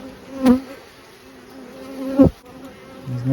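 Honey bees buzz near a hive during a swarm inspection, with a steady insect drone and two louder passes as bees fly close by, heard without any talk.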